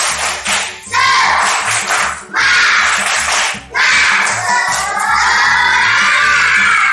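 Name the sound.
schoolchildren doing a rhythmic spirit clap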